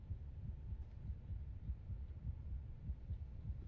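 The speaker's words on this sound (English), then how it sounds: "Why is my heartbeat freaking?" A video game heartbeat thuds low and muffled in a steady repeating pulse, close and continuous with a faint hum underneath. No voices.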